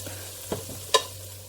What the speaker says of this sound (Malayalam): ഇനി മാംഗോ പൗഡർ ഇളക്കാം.